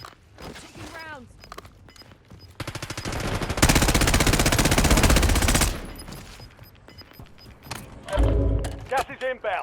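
Automatic gunfire rattles through a Call of Duty Warzone match. A loud, sustained burst lasts about three seconds, and shorter shots and footsteps come before and after it, with game voice prompts in between.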